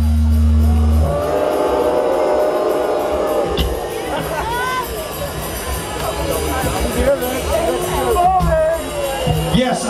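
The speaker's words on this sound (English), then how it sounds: "Everybody boo the stage again!" A large outdoor festival crowd at Sziget Festival 2010 jeers at a rock band on stage, a sustained roar of many voices swelling and rising in waves, loud and close throughout.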